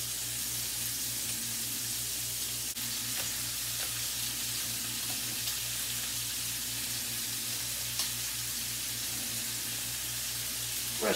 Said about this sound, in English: So I throw in the tomatoes because they're gonna create a little bit of nice little sauce